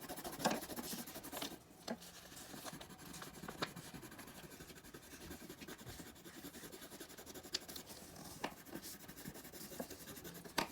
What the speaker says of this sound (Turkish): Ben şuradan kırmızı rengi alıyorum. İşte en sevdiğim gül. Çiçeği boyuyorum.